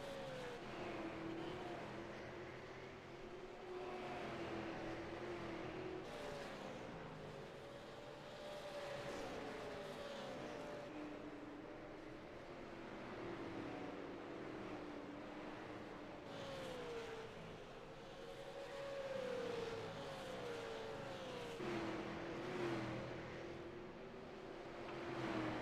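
Super late model race cars circle a track in a Thunderstruck series race, with engines droning and rising and falling in pitch as the cars pass at a distance, heard continuously and fairly faint.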